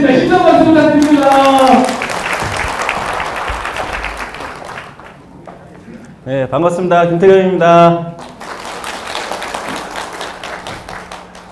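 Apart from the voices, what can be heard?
audience applause welcoming speaker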